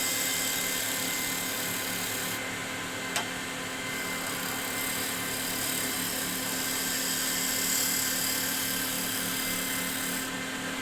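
A spindle roughing gouge runs lightly along a wooden box blank spinning on a woodturning lathe. It makes a steady, continuous high whine and hiss that barely changes throughout, with a single faint tick.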